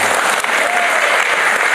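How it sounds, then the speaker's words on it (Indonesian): A church congregation bursts into loud, dense applause during a sermon, a continuous roar of many hands clapping close by, with a faint voice briefly heard. "tepuk tangan semua bagi Tuhan"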